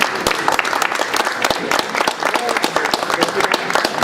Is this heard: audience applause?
yes